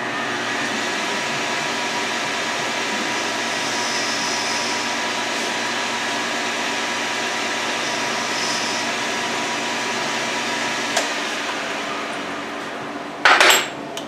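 A metal lathe runs steadily while dulling the edge of an aluminum pen part, a continuous broadband whir with high metallic tones, ending in a brief sharp clatter near the end.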